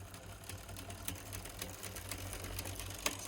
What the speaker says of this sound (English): this is the sound of my drivetrain.